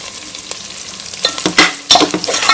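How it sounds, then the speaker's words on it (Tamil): Turmeric, chili and curry masala powders sizzle in hot oil for tomato rice, with light frying hiss and intermittent spoon scrapes as the pan is stirred, close and fairly quiet. "இதையும் நல்லா எண்ணெயிலேயே வதக்கி விட்டுருங்க."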